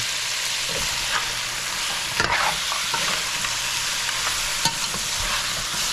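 Ground green seasoning toasting in a hot pot for lamb pepperpot gives a steady, close sizzle, with a few scrapes of a spoon stirring through it.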